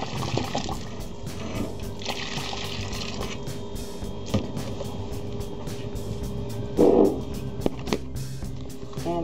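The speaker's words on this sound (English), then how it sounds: "I'm pouring half of this out" Boiling water pours steadily out of a pot of oxtails in a continuous rushing, splashing stream, moderately loud with a brief louder gush near the end.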